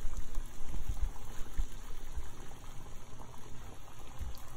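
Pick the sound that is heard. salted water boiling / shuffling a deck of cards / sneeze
salted water boiling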